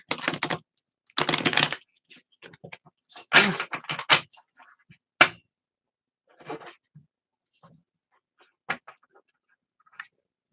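Thick tarot cards are shuffled in a few loud riffling bursts, followed by scattered softer taps and shuffles separated by quiet pauses.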